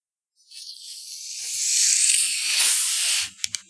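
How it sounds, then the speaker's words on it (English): A fresh can of Red Pop soda is cracked open, a sharp hiss rising into several seconds of steady bright fizzing, close and fairly loud, ending with a couple of small clicks. "I'm gonna crack open a nice fresh Red Pop over here."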